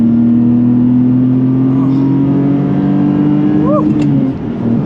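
A roll-caged Ferrari 550 Maranello V12 revs hard on a mountain road, a loud, steady engine drone climbing in pitch, heard from inside the car with faint talk.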